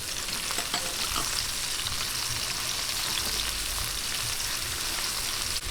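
Garlic sizzles in hot oil in a pan as onions go in for a Filipino pork adobo with kamias, a steady, close, dense crackling hiss that continues unbroken throughout with no talking.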